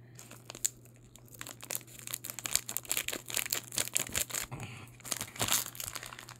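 A small plastic toy packaging bag is crinkled and torn open by hand, a busy run of close, sharp rustles and crackles that keeps going with no talk over it.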